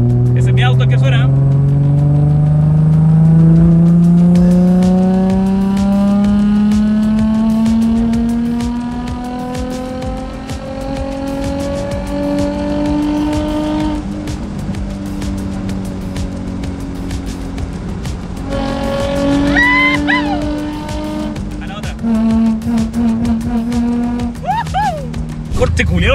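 A purple car at a night meet of exotic cars revs its engine loudly and steadily, pitch climbing and falling across the clip, while people talk nearby over the engine.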